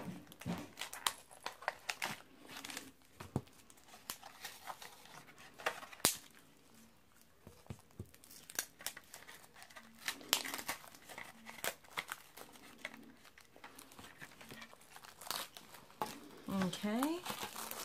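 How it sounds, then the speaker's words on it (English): Cardboard crinkles and tears as a box of trading cards is forced open, with rustling, crunching and sharp ripping sounds under intermittent talking. "I shouldn't be struggling this much to open a box."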